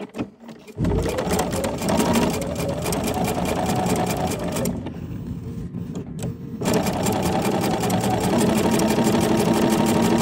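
A sewing machine stitches patchwork pieces in long, steady runs, loud and close, with a short pause midway before the motor starts up again.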